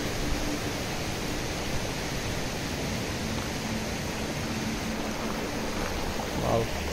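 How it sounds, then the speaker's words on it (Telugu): Glacier-fed waterfalls at Sahasradhara on the Satopanth trek near Badrinath, a steady loud broadband rush of falling water filling the whole clip without a break, with faint voices mixed underneath. "అది చూడండి ఎన్ని వాటర్ ఫాల్స్ వస్తున్నాయో"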